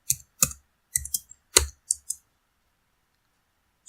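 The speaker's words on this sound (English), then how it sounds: "type the password here" Keys tapped on a computer keyboard while entering a password at a CentOS 7 login, about eight close, crisp clicks in quick irregular bursts, then silence.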